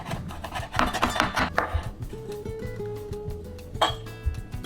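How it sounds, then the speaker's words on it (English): A knife chops fresh parsley for a garnish on a board in a kitchen, giving a quick run of close, crisp cuts mixed with light clinks of utensils. "The next thing to chop will be the parsley"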